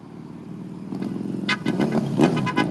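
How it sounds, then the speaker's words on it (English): A motorcycle engine roars and revs, building from a low rumble into sharper bursts of throttle. It sounds fairly close, with no voices over it. "I heard the roar of a motorcycle"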